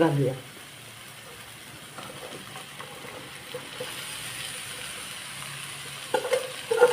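Mixed vegetables and spices being stirred as they fry in a pan for a rustic village-style mixed bhaji, with soft sizzling and occasional scraping, faint and close, and someone talking briefly near the start and end.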